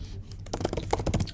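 Rapid keystrokes on a computer keyboard while entering a command in a text editor, a quick run of close, crisp clicks heard alone with no talking.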